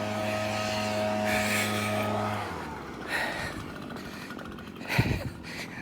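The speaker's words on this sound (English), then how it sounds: "Big blower guys coming here." Leaf blowers run by workers near a golf-course retirement community give a loud steady engine drone that stops partway, followed by scattered rustling and a brief thump.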